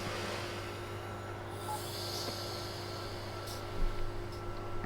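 Simulated Amtrak passenger train idling on the Northeast Corridor between Philadelphia and Trenton, a steady low rumble and hum with faint brake hiss and a brief soft thump near the end.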